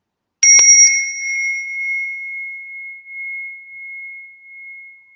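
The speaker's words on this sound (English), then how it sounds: "And the overtones of these bells do emerge also very clearly" A Balinese bell is struck once, giving a sharp metallic strike followed by a pure, sustained ringing tone with a higher overtone that decays slowly over several seconds.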